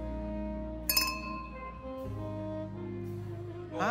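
Glasses clinking together in a toast, a bright ringing chime that rings out and decays with sustained tonal resonance, followed by further faint clinks, fairly quiet with no talk.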